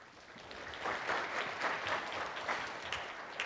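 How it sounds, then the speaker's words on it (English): An audience at a food safety talk on CFIA's Ontario operations gives a warm, sustained round of clapping for the incoming speaker, fairly soft and even, building slightly and holding for a few seconds. "So please, a big round of applause for Pam."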